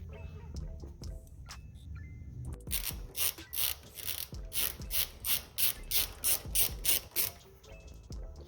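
A ratchet working a 5.5 mm bolt off a power steering hose on a 2005 Ford, first quiet, then a run of loud, evenly spaced ratcheting bursts close by, with no talk over them.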